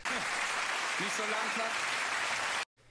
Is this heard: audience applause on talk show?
yes